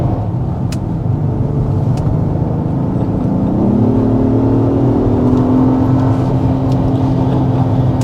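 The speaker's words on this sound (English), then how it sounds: "we're finally making it out to some twisty canyon roads so we can get some good impressions about how this MDX Type S performs" A 2025 Acura MDX Type S SUV with a 355 hp engine drives a twisty canyon road, its engine droning steadily from inside the cabin and rising in pitch partway through as it powers through a corner.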